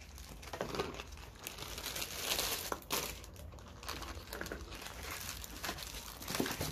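Crinkly plastic packet holding a warranty document for a Monster Abra A7 V12.2.2 laptop torn open and handled, with steady close crumpling and tearing textures and a few sharper crackles, no talking.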